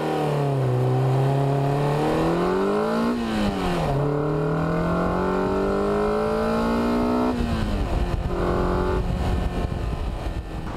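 A car engine revving to 7,500 rpm, loud and continuous, pitch climbing through the gears with brief drops at each shift, close and droning.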